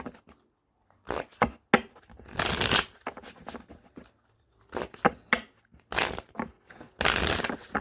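Tarot cards are shuffled by hand in several bursts of crisp riffling and flicking, separated by short pauses, close and fairly quiet, with no talking.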